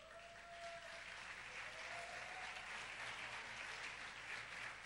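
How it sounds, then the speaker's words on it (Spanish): A crowd at a church sermon applauds steadily, a dense wash of clapping that holds even throughout, faint and distant. "Usted estaría aplaudiendo más bien al Señor."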